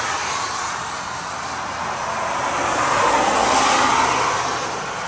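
Traffic rushing past on the Trans-Canada Highway nearby, a continuous broadband roar that swells as a vehicle passes close, then eases.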